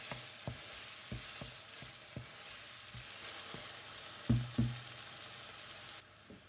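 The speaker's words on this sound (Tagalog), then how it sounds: "At halu-haluin lang natin." Onions frying in a pan for fish curry, stirred with a utensil: steady broadband sizzle throughout with regular scraping knocks about every half second, two louder clacks near the end, no talk.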